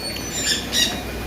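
Birds at an eco park, two short harsh squawks heard at moderate distance over a soft outdoor hiss.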